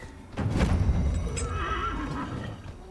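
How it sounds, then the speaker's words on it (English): A horse in the video game Dragon Age Inquisition gives a loud, close whinny that rises and trails off, with a few hoof clip-clops underneath and no talk. "let's get the horse. Is this the horse?"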